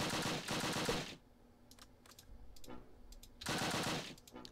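Two loud, rapid machine gun bursts from the Close Combat: Last Stand Arnhem battle game are separated by a quieter gap holding scattered faint clicks and distant pops.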